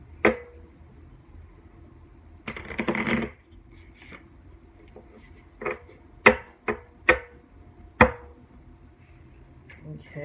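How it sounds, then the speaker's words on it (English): Tarot cards being shuffled by hand: a long riffling burst followed by several short, crisp snaps of the deck, spaced a second or so apart, close up in a quiet room. "1 more shuffle."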